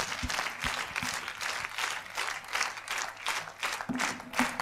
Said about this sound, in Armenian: Ծափարեք Գևոր Կարապետյան